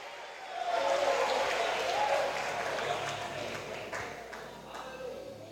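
A church congregation applauding during a weekday teaching service, a broad steady wash of clapping that stays fairly loud and even for several seconds with crowd murmur underneath.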